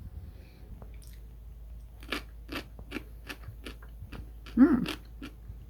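Several sharp, crisp crunches of teeth biting into fermented pickled watermelon radish, spaced irregularly and close up, with one louder crunch near the end; no talking.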